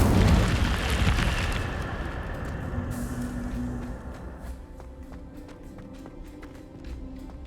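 Fire spell cast in Hogwarts Legacy: a loud burst of roaring flame and crackle at the start, fading into a low sustained rumble with scattered small pops and tones.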